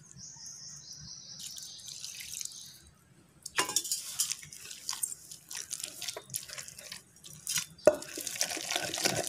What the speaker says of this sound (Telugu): చాలండి, కొంచెం వాటర్ వేస్తున్నాను.